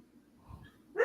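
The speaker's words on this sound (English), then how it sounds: "Did Watson make Cashew start barking?" A dog gives a single short, faint bark at the very end of the brief moment, after near silence.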